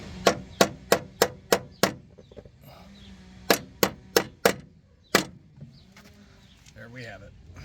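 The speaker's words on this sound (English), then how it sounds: "We're just going to tap it in with a hammer." Sharp metallic hammer taps driving a brake clip into place on a Hyundai Elantra, a quick run of six strikes, then a pause and another burst of five, with a final single tap; close and crisp.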